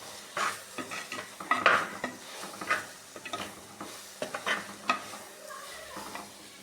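Vegetables sautéing in oil in a pan for Trichy-style sambar, a spatula stirring and scraping against the metal in a string of irregular clinks and scrapes over a low sizzle, close up, no talking.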